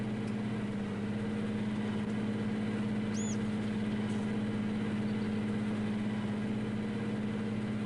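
A tractor engine idles and runs in Farming Simulator 19, giving a steady, loud low drone with a constant hum and one brief high chirp partway through.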